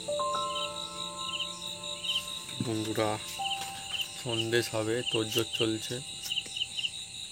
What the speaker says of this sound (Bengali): ঝিঝি পোকা ঝিঝি করে ডাকে।